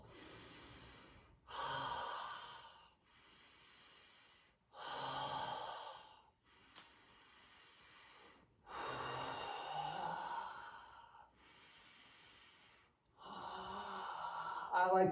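Slow, deep breaths taken while holding a yoga crab pose, with long audible inhales and exhales alternating in a steady rhythm, close and fairly soft, separated by short quiet pauses.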